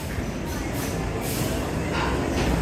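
A well-themed mine train roller coaster, Adventure Express at Kings Island, gives off a steady, loud, continuous rumbling roar of cars running along the track, with no break across the stretch.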